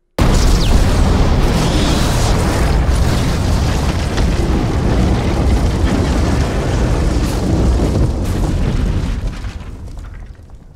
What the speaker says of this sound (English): The explosion causes all the rubble of the home to crash down into the cave, becoming a tomb.